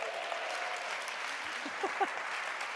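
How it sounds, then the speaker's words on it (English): Audience clapping softly and steadily for a few seconds in a small room, a faint patter with a couple of louder claps near the end. "Not sure it warrants the applause"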